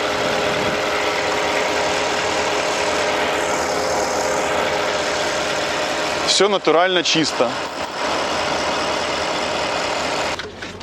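A Porsche car engine idles with a steady, close mechanical hum in Hong Kong, and someone speaks briefly over it partway through.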